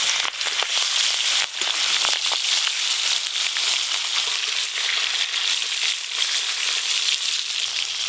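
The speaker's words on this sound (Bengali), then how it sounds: "এবার মাছগুলো ভেজে নেব" Boal fish frying in hot mustard oil gives a loud, steady sizzle and crackle that runs unbroken for the whole stretch, with no voices over it.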